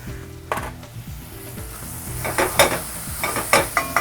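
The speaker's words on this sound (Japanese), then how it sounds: "ちょっともう全体的に焼き色がつくぐらいまで炒めていってください" Duck pieces and root vegetables sizzle and hiss in a single enamelled cast-iron pot, with steady frying noise broken by several louder bursts and stirring scrapes, close and alone with no voices.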